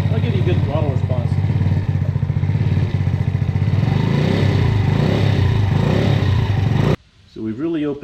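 A Maddog 50cc GY6 scooter engine runs close at a high, steady idle with a fast, even putter for about seven seconds, then cuts out abruptly and someone speaks.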